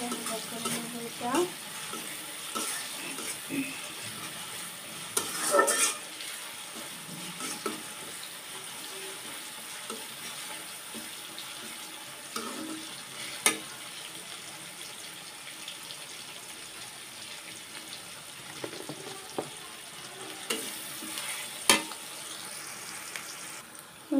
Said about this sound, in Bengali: এটা একটু নাড়তে থাকবো